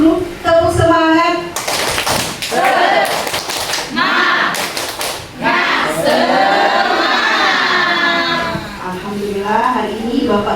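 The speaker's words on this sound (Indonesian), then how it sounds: "tepuk semangat" Teachers do a rhythmic spirit clap in unison, with sharp bursts of claps in patterned groups mixed with crowd voices chanting and calling out loudly throughout.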